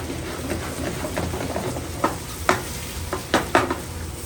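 Red peppers, zucchini, mushrooms, asparagus and tomatoes sauté in oil in a restaurant pan, a continuous loud sizzle with several scraping, tossing bursts near the end.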